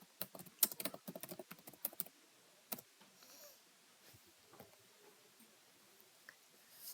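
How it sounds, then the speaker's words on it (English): Typing on a computer keyboard while building a WordPress site, a quick burst of close, crisp key clicks followed by scattered slower taps over quiet room tone. "I will type digital marketing."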